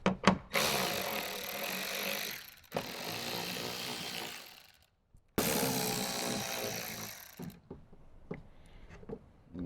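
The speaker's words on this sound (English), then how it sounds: "let's remove our connector and 3 10mm bolts" A power tool removes the 10mm bolts holding a Toyota Tacoma door speaker. Two long, loud whirring bursts come with short clicks and taps between them, all close by.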